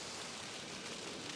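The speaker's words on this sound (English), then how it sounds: "It's raining, as you can possibly hear." Steady rain hisses down on a winter beach at Milford on Sea at night, a dense, even wash of noise filling the whole moment with no voices.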